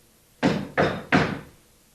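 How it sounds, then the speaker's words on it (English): Three firm knocks strike a wooden cottage door in quick, even succession, close and loud, followed by silence with no voices. "I knocked on the door."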